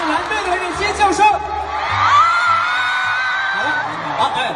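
At The Untamed concert in Nanjing, a big audience screams for the blue team: a loud, sustained wall of high-pitched shrieks and yells that peaks mid-way and carries on to the end.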